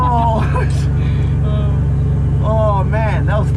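A Nissan S13 with about 316 horsepower, being readied for track use, roars loudly under hard acceleration with a constant low engine drone, while excited voices shout over it.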